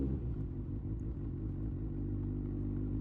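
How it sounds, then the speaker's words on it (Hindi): A Kawasaki Ninja ZX6R rolls over gravel in Delhi traffic with the clutch pulled in, giving a steady, close low rumble and faint clatter with no rise in revs. "रोल करते हुए बाइक को जाने दो, ब्रेक ब्रेक मारने की जरूरत नहीं है, आराम से ग्रेवल के ऊपर से निकल जाती है"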